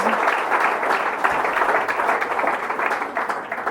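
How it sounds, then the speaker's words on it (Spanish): A church congregation in a Spanish-language service claps for Jesus, a steady, dense burst of applause filling the room, close and continuous throughout. "Dé un aplauso al Señor Jesús."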